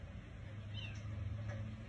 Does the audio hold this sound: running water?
no